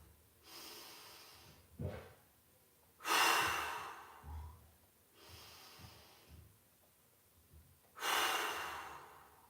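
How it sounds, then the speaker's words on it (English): Deep breaths drawn in through the nose and let out through the mouth during a mobility workout, heard as about three long, close airy exhales with quieter sniffing inhales between them. No one speaks. "We're going to go in through the nose, fill the lungs, 3 breaths. Ready? Out through the mouth."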